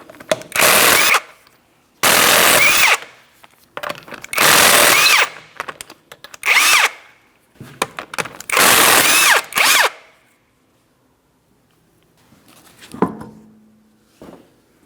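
Impact wrench or power drill spinning off 19mm lug nuts from a 2004-2008 Pontiac Grand Prix wheel, five loud whirring bursts in a row with short pauses, then a faint clatter near the end.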